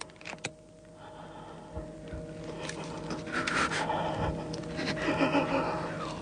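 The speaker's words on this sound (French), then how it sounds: "Vous entendez sa respiration angoissée." A Mikado player's anxious breathing, close and strained, with faint panting in a room with steady background noise and no clear talk.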